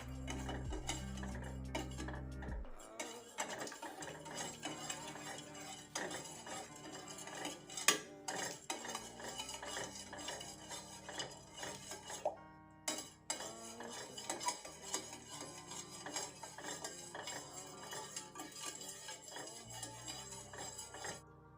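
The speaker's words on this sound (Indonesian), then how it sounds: "Lalu aduk hingga merata." A mixture is stirred until evenly blended, a utensil clinking and scraping against a bowl in a steady, busy rhythm that runs throughout at close range, with no speech.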